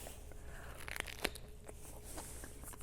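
A crisp bite into keto chicken salad with celery and pecans wrapped in a lettuce leaf gives one sharp crunch near the middle, followed by quieter chewing and crinkling, close and alone without talk.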